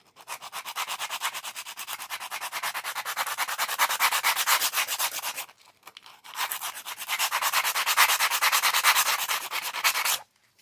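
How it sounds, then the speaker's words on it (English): An old nail file rubbed along the edges of a new nail file, a steady close scraping rasp in two long bursts separated by a brief pause, with no voices. "You rub an old file against a new file on the edges so you don't cut yourself."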